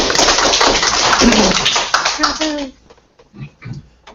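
Brief burst of clapping from a small audience at a WordPress developer meetup, dense for a couple of seconds under talk, then tapering into scattered claps as voices continue.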